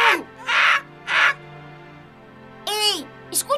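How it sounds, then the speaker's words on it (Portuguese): A cartoon bird caws like a crow in several loud, harsh bursts, three in quick succession and then a wavering cry followed by a couple of short squawks. "o pássaro está atrás de mim"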